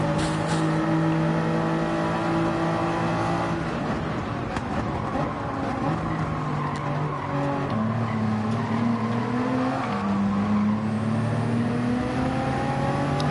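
Race car engine in a rainy racing video game, loud and continuous, with rising and falling revs through gear shifts and no talk.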